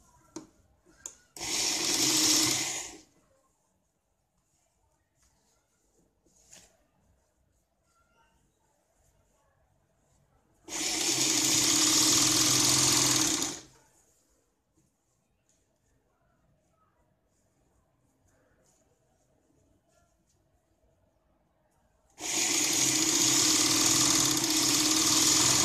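A sewing machine stitches a three-layer blouse with its cross-strip lining, running in three bursts of a few seconds each. Each burst is loud and close, and the pauses between them are quiet.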